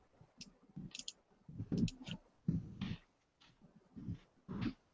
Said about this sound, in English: let me type it in on Google